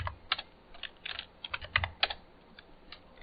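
Keys clatter on a computer keyboard in irregular bursts of quick, close taps, fairly quiet, with no one talking.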